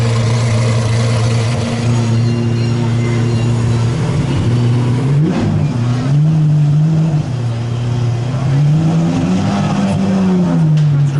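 A 780-horsepower car engine, the same unit used in the Ferrari F12, idles with a deep steady rumble, then blips and revs up and down several times at close range.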